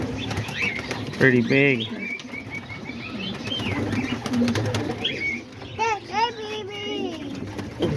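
Homing and roller pigeons coo softly, with a few sharper calls and brief wing flaps rising out of a steady low murmur from the flock nearby, while someone talks over them.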